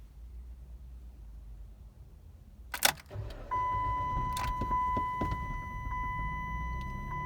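A 2007 Dodge Caliber with a 2-liter engine and low compression cranks after a few clicks and rattles, turning over steadily and nearly catching, with a thin whine running over the grinding churn.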